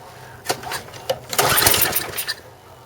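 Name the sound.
snow blower engine sputtering and popping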